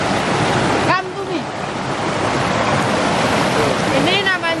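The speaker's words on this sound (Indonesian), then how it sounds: "Ini namanya air terjun." Waterfall on Mount Gede with hot-spring water, a steady broadband rushing roar filling the whole clip, with people talking over it in the foreground.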